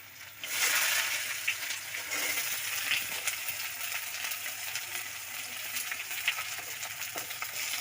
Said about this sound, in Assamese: পিঁয়াজখিনি লাল হোৱালৈকে ভাজিব লাগিব